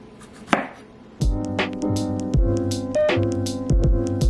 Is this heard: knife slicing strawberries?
yes